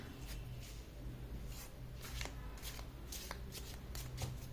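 Tarot cards being shuffled by hand, a steady run of quick papery riffles and flicks, close and fairly quiet over a low background hum, with no talk.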